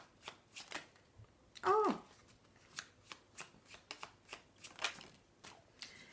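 Tarot cards shuffled and drawn from a deck at close range, a series of crisp riffling flicks and slaps repeating through, with one brief exclamation partway in.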